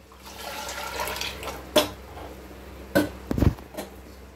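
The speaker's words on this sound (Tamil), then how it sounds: "இப்போ வந்து அந்த வேக வச்ச தண்ணி ஊற்றிக்கலாம்" Water from boiling meat poured into a pan of sautéed onions for a village-style goat head curry, a few short splashing bursts and gurgles over faint background hiss.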